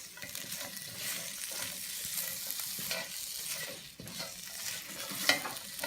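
Honey garlic chicken sizzles and crackles loudly in a hot pan, a continuous close frying hiss with occasional stirring scrapes and pops, no voices.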